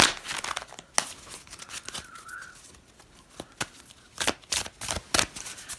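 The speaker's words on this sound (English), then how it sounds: "I'm just going to pull 3 cards from the Sacred Journey Oracle deck." Oracle cards are shuffled and pulled from a deck, giving soft, close papery riffles and crisp flicks in scattered bursts, fairly quiet with no talk.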